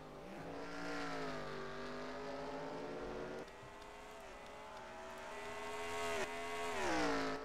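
Race cars in an NRX Meijer Cup race at Detroit's Belle Isle, engines droning loud and steady with rising and falling pitch as they run down the backstretch, one dip midway and another surge near the end.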